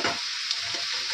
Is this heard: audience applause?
no